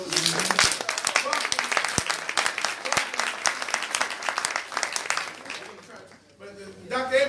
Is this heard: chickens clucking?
no